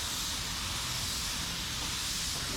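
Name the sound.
spray gun spraying sealer on car panel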